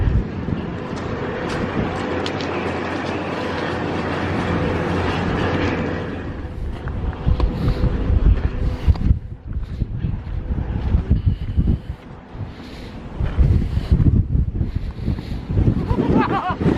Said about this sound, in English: Wind is getting it, son.